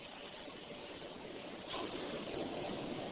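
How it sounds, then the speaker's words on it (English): A Space Shuttle launch pad sound suppression water system gushes as a steady broadband rush of pouring water, growing slightly louder partway through, faint and distant with no voices. "Sound suppression water system activated."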